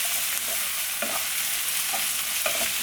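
Ginger, garlic and onions sauté in a hot pan with a continuous close sizzle, punctuated by a few soft scraping stirs.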